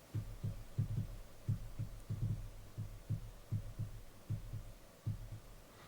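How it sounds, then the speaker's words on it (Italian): Soft, dull knocks on a desk beneath a studio microphone boom arm come in an irregular series of about a dozen muffled thumps, faint and low, with no talking. "Ok, adesso tichettiamo sulla scrivania."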